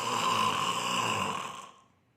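A single long snore imitated by a voice, a raspy rattling breath held steady for over a second before fading out.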